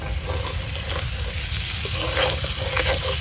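Murla fish cooking with ridge gourd leaves in a pan is stirred steadily, giving a continuous close sizzle with scraping and scraping-stir noises throughout.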